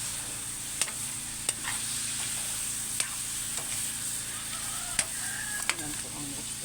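Chicken pieces fry in a pan as fish sauce goes in for Filipino tinola, giving a steady close sizzle broken by a few sharp clicks and stirring knocks, with no talking.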